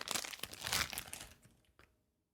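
Packaging crinkles and rustles loudly while a Vangoa closed-hole flute is unpacked, a dense crumpling burst that fades out, followed by a single soft tap and then quiet.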